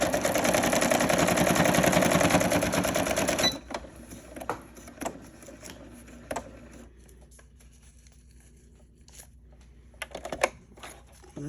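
A sewing machine runs loud and steady as it stitches paper scraps into junk journal clusters, then stops, leaving scattered clicks and handling noises close by.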